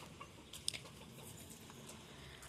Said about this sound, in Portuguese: Aí meu pintinho tá aqui com essa galinha.